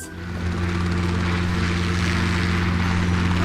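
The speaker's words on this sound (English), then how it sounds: "it is a helicopter." Steady, loud rotor and engine drone of a helicopter, a constant throbbing hum with no pauses.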